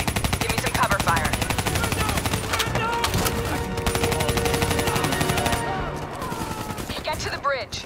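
Sustained automatic gunfire in Call of Duty: Black Ops 3 on PC, dense rapid bursts running nearly continuously with a helicopter-like drone underneath, loud and close throughout.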